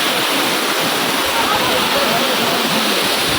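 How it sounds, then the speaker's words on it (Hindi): Roar of the Manthoka waterfall, about 180 feet high, near Skardu: a loud, steady broadband rush of falling water that fills the whole clip without a break. "And check out the beauty of this waterfall."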